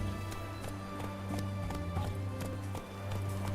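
Horse hooves galloping in The Witcher 3, a fast steady clip-clop rhythm of close, moderately loud hoofbeats over a continuous game music and ambient bed.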